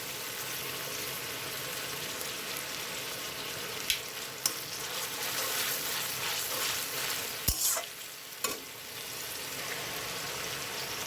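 Ginger and garlic sizzle in hot oil in a pan while cooking a tengra fish recipe, a soft continuous frying hiss broken by a few sharp clinks of a utensil, with no talking.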